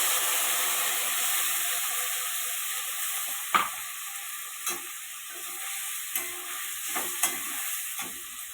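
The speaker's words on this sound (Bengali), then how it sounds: "আলুটা লাল লাল করে ভেজে নিচ্ছি" Potatoes frying in oil with spices, a constant bright hiss of sizzling oil, with a handful of separate spoon scrapes and stirs in the second half, close by and with no talk.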